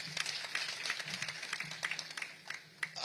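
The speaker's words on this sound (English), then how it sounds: "Can you clap up your hands for that?" Audience applause at a groundbreaking ceremony for a cement plant, a dense steady patter of many hands clapping at moderate distance throughout, with no voices over it.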